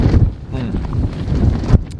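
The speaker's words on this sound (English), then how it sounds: "at least the microphone is out of the wind a bit, although it's still loud from the tent flapping" Wind buffets a microphone inside a tent at a wild camp on Dartmoor's Sheeps Tor, with the tent fabric flapping loudly and continuously for two seconds and a sharp gust near the end.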